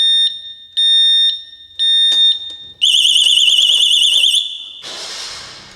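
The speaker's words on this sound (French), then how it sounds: "Il a fait d'abord les bips avant de déclencher l'alarme au complet" A motorcycle anti-theft lock alarm sounds close and loud after being kicked: a few steady electronic beeps, then a rising-and-falling warbling siren that ends in a harsh burst of noise.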